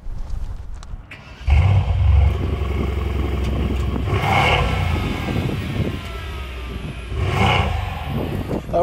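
A 2019 Mercedes-Benz C63 S AMG pulls away, its engine note rising in a steady, loud roar from inside the cabin, with a couple of swelling surges as it accelerates.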